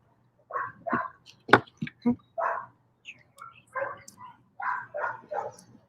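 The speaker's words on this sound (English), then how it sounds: "He is a nice dog." A dog at an animal shelter gives a series of close, sharp barks and yips spaced irregularly over several seconds, with quiet pauses between.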